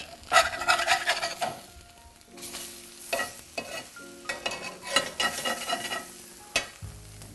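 Eggs frying in a pan give off a steady, moderate sizzle, broken by scraping and stirring noises from the utensil, close up and with no talking.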